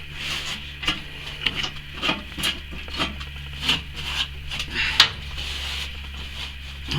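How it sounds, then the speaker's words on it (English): A car floor pan is wiped down with isopropyl alcohol, soft irregular rubbing and scuffing with occasional sharper clicks, close and fairly quiet over a low hum. "just spritz out isopropyl alcohol"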